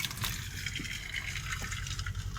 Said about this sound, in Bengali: এরপর আমি জলটা ঝরাবো